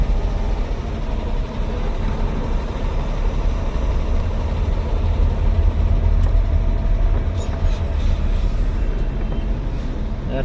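A traffic jam of idling cars and trucks held at a stop sign by a railway crossing in Asanbay, Turkistan, giving a loud, continuous low engine rumble close by with no voices.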